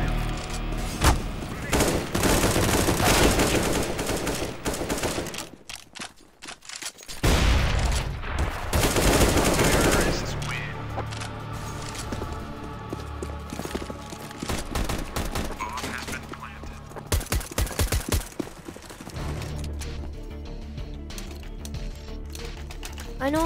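Gunfire in the video game CS:GO, with rapid bursts and shots over roughly twenty seconds at moderate level, broken by short pauses and mixed with game noise and occasional talk.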